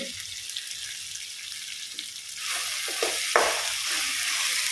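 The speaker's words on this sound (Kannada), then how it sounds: "ಇದು ಕೂಡ ಸ್ವಲ್ಪ ಒಂದು ಎರಡು ನಿಮಿಷ ಎಲ್ಲ ಜೊತೆಗೆ ಫ್ರೈ ಆಗಲಿ" Sweet tomatoes fry in a pan with other ingredients, giving a continuous close sizzle with some stirring scrapes; the frying grows louder partway through.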